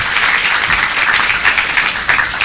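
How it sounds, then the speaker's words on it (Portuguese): Loud, dense audience applause at a social media event in Foz do Iguaçu, a continuous wash of many hands clapping close by without letup. "Salve de palmas"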